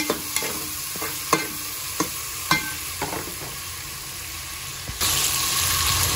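Food frying in a pan for an Arabic-style kabsa cooked in a room, a continuous hiss broken by occasional sharp clanks of a utensil, with the sizzle swelling louder near the end.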